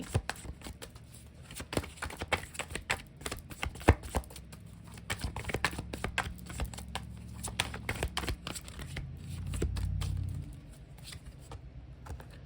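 Green Witch Oracle cards shuffled in a rapid, close flurry of papery riffles and taps that carries through the whole stretch, ending with a softer handling sound as a card is drawn.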